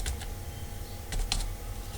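Keystrokes on a computer keyboard while filling in a Google Forms admission form, a few quick taps and short bursts spread over a couple of seconds against steady low background hum, close and fairly quiet.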